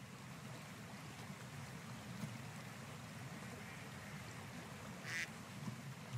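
Ducks sit calmly on water as a bobcat edges toward them, giving a soft continuous outdoor wash of water and ambience with a faint brief call near the end.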